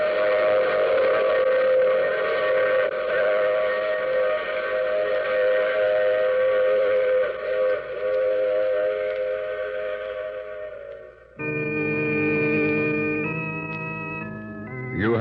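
Radio-drama sound effect of a steam train running with its whistle blowing, a long loud sustained whistle over rumbling wheels, then a shift to a second multi-tone whistle blast near the end, no talk.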